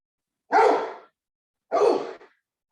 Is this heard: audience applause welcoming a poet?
no